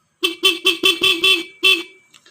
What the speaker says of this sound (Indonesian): Kita ke klakson.